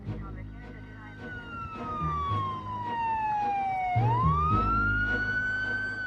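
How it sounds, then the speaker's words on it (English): An ambulance siren wails close by, a single long tone sweeping slowly downward and then climbing back up, loud and steady over low road rumble. "John called for an ambulance to have Jan rushed to the hospital"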